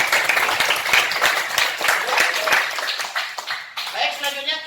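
An audience in a classroom or study gathering claps in a loose, uneven patter that fades toward the end, with some voices mixed in as it dies down.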